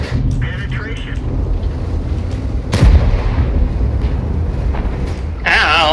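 Heavy artillery fire in the tank battle game World of Tanks: a single loud boom with a rumbling tail lands near the middle, set under a steady engine drone while players talk over it.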